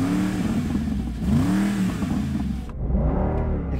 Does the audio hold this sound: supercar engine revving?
yes